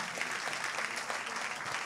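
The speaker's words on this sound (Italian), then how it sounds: "salutiamo tutti con eh, deferenza e con un applauso" An audience at a meeting with a film team breaks into steady, dense applause, a continuous wash of clapping heard at moderate level throughout.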